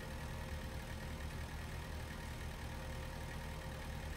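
A tractor engine in Farming Simulator 19 drones steadily as the machine drives at its 18 mph top speed, with a constant mid-to-low rumble and no talking.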